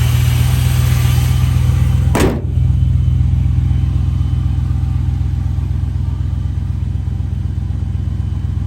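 Steady idling V8 rumble from a 1972 Dodge Polara, a former Washington State Patrol car, running continuously up close with one brief thump partway through and no talk.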